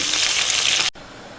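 Meat and onion frying together in hot oil for Uzbek pilaf, a loud steady hiss filling the first second before cutting abruptly to quiet.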